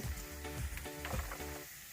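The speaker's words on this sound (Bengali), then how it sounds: "তেল গরম হয়ে গেছে। এখন আমি এতে চপ করে রাখা আদা রসুন দিয়ে দেবো।" Chopped ginger, garlic and onion frying in hot oil for cabbage manchurian, a continuous close sizzle with stirring scrapes, fading slightly at the end.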